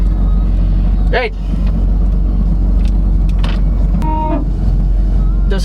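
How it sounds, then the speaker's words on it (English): Brakes on a 2016 Porsche 911 GT3 RS (991.1), still cold, give a few short squealing bursts over a steady loud engine and road drone inside the car. "Those are the brakes. It's still cold."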